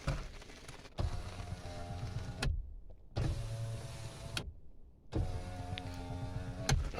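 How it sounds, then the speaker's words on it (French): An electric car window motor whirs on a nearly new German-brand car with 22,000 km. It runs three times, each run lasting about two seconds and ending with a thump, separated by brief silences. "Vitre électrique."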